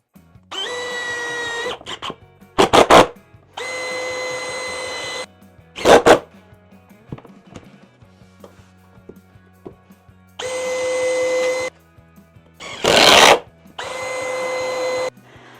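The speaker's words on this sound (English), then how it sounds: "used my jigsaw to cut out along the line to create that semicircle and arch" A jigsaw cuts an arch shape from an MDF board in bursts of about a second, a buzzing whine starting and stopping several times, with sharp louder knocks and handling noises between the cuts.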